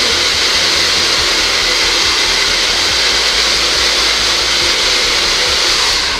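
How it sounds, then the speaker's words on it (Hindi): A handheld hair dryer runs steadily on its hot setting, a loud, continuous close-up whoosh of blowing air with a motor hum that holds without a break for the whole stretch. "इसे बस आप ड्रायर के साथ नीचे वाला बटन ऑन करके गर्म हवा"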